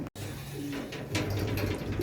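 A racing pigeon coos softly a few times close by, low murmuring calls against a steady background hum.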